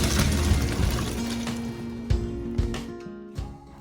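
Cooked pasta drained through a strainer, water gushing and splashing steadily at close range, followed by a few clattering knocks as the pour tapers off.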